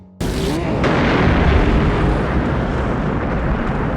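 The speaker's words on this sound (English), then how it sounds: "Emile torches the gas station, creating a massive explosion." A gas station is torched in the film Robocop and goes up in a massive explosion, a sudden loud blast that swells into a dense, sustained roar and rumble filling the whole stretch.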